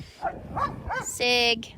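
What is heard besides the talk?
dogs barking in the background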